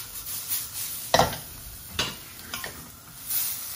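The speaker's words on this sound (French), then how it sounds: "On va mélanger bien nos produits comme ça, que ce soit homogène." Courgettes, carrots and onions being stirred in a wok, giving scattered scraping and clacking strokes of a utensil against the pan over a faint background hiss, with a few sharper knocks.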